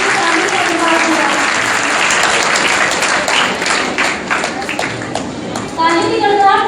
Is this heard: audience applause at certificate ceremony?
yes